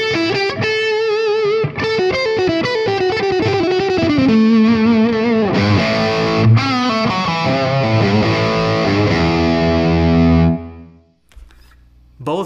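Electric guitar played through a hand-wired RockNRoll Amps CR60 amp with the choke out, a loud, fast, driven melodic run with sustained distorted notes that ends abruptly and fades.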